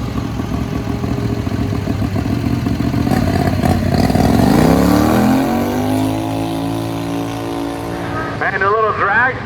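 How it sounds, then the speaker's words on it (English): A turbo 670 dragster making a drag racing pass, a loud engine roar that climbs and falls in pitch as it passes, then fades into a distant whine, with people talking over it. "the little dragster looks like it's got some gusto out there this run"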